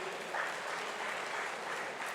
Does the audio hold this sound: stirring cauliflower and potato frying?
no